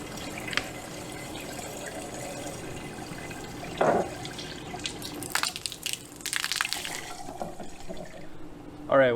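Water splashing and trickling in a 3D printed hydroponic garden fed by a pump, uneven splashes and drips with a louder burst near four seconds and a gurgling spell later, heard close up.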